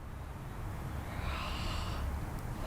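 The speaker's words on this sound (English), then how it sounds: "So I'm going to show you a few deep breaths and then an H." A deep breath drawn in and let out during a breathing exercise, a steady airy hiss close to the microphone lasting a couple of seconds, with no talk.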